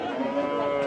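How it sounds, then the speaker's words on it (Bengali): A sturdy butcher-grade bull at a busy cattle market lets out one steady, loud, close moo. "ভাইয়ের গরু দুটো বেশ একবারে সুঠাম দেহের গরু দুটি"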